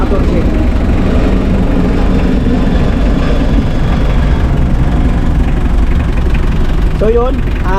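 A car engine idles steadily and loudly during a battery swap, a constant low rumble throughout with someone talking over it.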